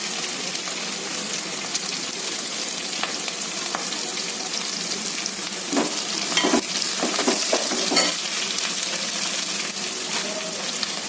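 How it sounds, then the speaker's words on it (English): Curry leaves and green chilies frying in hot oil for a veg biryani, giving a loud, steady, close crackling sizzle throughout with a few sharper spits and spoon stirs, no talking. "curry leaves and along with green chilies. I will add. I will fry 2-3 minutes."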